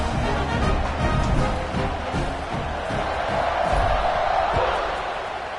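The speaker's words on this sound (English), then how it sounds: "this crowd is feeling themselves after that last drive" Stadium crowd roaring steadily at a college football game after a touchdown drive, a loud sustained wall of cheering that swells and holds for several seconds, with a few sharp thuds mixed in.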